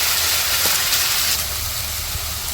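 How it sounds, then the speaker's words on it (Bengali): Ginger garlic paste hitting fried onions in hot oil, a loud, steady, close sizzle and hiss throughout with no break and no talk. "তো যে পেঁয়াজ ভাজা হয়ে গেছে এখন দিয়ে দিব আদা রসুন বাটা"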